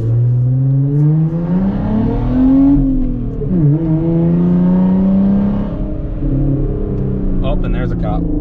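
A 2020 Jeep Gladiator on 37-inch tires accelerates from inside the cab, its engine rumbling loud and close while the pitch climbs, dips with a gear change, and climbs again.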